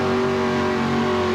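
A homemade John Deere pulling tractor with a carbureted engine revs loud and steady at a 1984 indoor truck and tractor pull, its rough sustained roar close and continuous with no talk.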